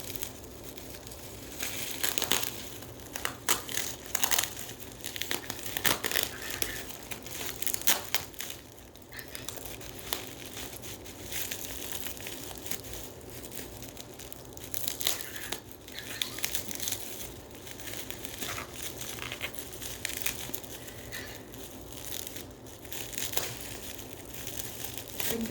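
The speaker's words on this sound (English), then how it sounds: "I can get all this tape out" Packing tape being peeled and torn off cardboard while prototype Anki robots are unboxed: continuous close crinkling, ripping and rustling at a steady busy pace, with no voices.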